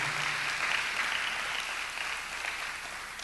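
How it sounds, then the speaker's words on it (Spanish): A church congregation claps together, a dense, even wash of applause that holds steady from start to finish at moderate loudness. "Démosle ese fuerte aplauso al Señor."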